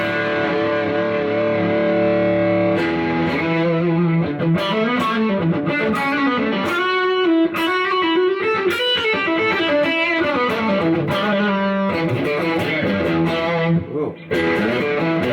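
Heavy, distorted chords and riffs on a Stratocaster electric guitar ring out loudly and continuously, thick and saturated, with no talking.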